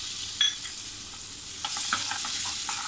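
Tomato sautéing in egg masala over low heat makes a soft sizzle, with light stirring clicks and scrapes toward the end and no voices.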